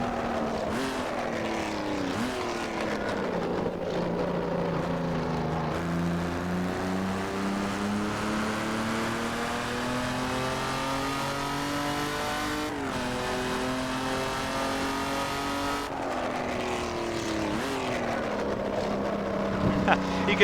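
A Jaguar XJ13 with a British V12 engine drives in the Assetto Corsa racing game, its engine droning and revving continuously up and down through the gears with steady sustained tone, loud and close throughout.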